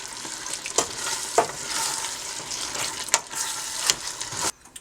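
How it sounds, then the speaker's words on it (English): Diced tomatoes stirred in a hot frying pot for vegan Hoppin' John, with a steady sizzle and several sharp scraping strokes of the spoon, close and continuous until it cuts off near the end. "You're going to add your diced tomatoes, give it a quick mix so it doesn't burn."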